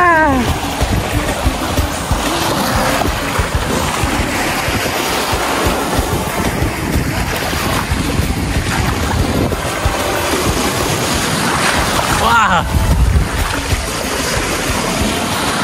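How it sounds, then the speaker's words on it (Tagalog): Strong ocean waves roar steadily near a seaside campers' resort, a loud, continuous wash of surf with wind buffeting the microphone throughout. "Ibig sabihin malakas yung alon."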